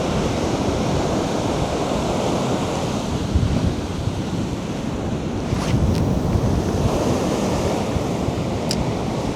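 Strong wind buffets the microphone on a beach where ocean surf rolls in steadily. The rumble is loud and continuous, with a few sharper gusts, and no voices are heard.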